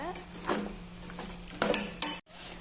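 Chicken pieces are stirred with masala in a pan for a Sunday chicken gravy, giving a few scraping and clattering strokes of a utensil over a light sizzle, close up, with no voices.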